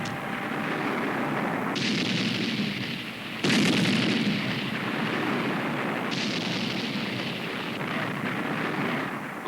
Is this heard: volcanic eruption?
yes